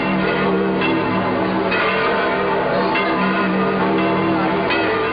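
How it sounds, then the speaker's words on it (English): Church bells ring out from the Vatican in 1944, announcing Pope Pius XII's appearance before a crowd: continuous overlapping peals, loud and sustained, heard through old, muffled, narrow-band recording with no voices. "The sound of bells from the Vatican announces the appearance of His Holiness Pope Pius XII."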